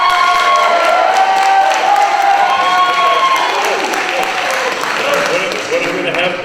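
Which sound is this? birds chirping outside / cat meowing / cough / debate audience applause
debate audience applause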